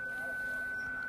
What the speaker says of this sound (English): That noise was a high-pitched noise